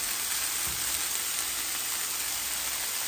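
Spicy gochujang pork belly sizzles in a pan, a steady, close frying hiss that runs without a break and with no voices.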